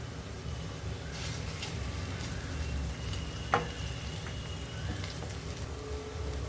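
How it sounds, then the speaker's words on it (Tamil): Ginger garlic paste frying with softened onions and curry leaves in a pan for a Chettinad-style baby corn dish, giving a steady, even sizzling hiss throughout with one brief sharp click near the middle. "இப்போ இதில் இஞ்சி பூண்டு பேஸ்ட் சேர்த்துக்கிறேன்."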